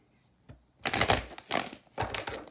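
Tarot cards are shuffled up close in about three crisp, riffling bursts with short pauses between them. There is no talking.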